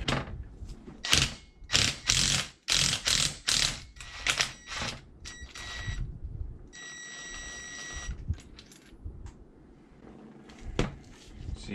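A torque wrench ratchets in bursts of rapid clicks while working loose an Audi/VW 2.0T high-pressure fuel pump, close and sharp, followed by quieter mechanical clatter.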